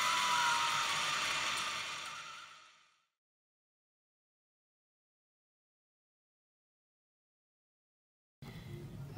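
An Elna 3230 sewing machine winds a bobbin with a steady, close whirring hum that fades out and stops after a few seconds, followed by silence before a brief mechanical sound returns at the end.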